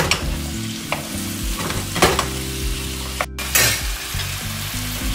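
Vegetables with mushroom sauce sizzle and fry in a pan while being stirred, with a steady sizzle broken by several sharp scrapes and clanks from the utensil and pan being shaken.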